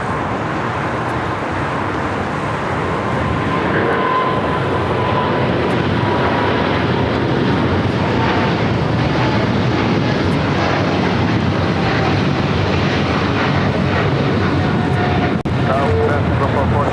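A KLM jet airliner, Flight 604 bound for Amsterdam, roars loudly and steadily during takeoff at LAX, a broad continuous engine rumble that holds for the whole stretch, with voices talking over it.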